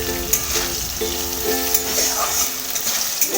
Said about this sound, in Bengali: ভালো করে আলুগুলো ভেজে নেব।